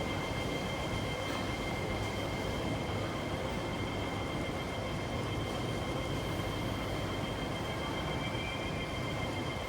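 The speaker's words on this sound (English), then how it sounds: "So here's first terminating train." A terminating MTR train at Mei Foo Station in Hong Kong fills the scene with a steady, loud rail rumble and hum of wheels and carriages, continuous throughout with no voices.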